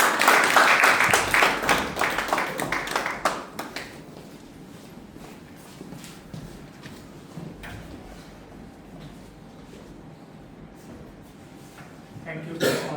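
A club audience at a Toastmasters meeting gives a round of applause, loud at first then thinning out after a few seconds, followed by quieter room noise, shuffling and a brief speaking voice.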